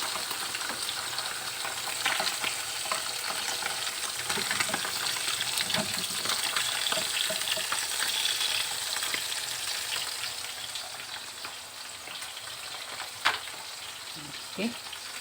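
Fish frying in a pan gives a steady, close sizzle with scattered pops and spatters. Occasional sharper clicks sound like utensil movement.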